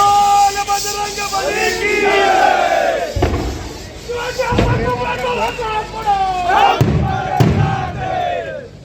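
Party workers in Nashik shout slogans loudly together in celebration of Kalpana Chumble's election as market committee chairperson, a dense chanting crowd with sharp bangs like firecrackers bursting at intervals.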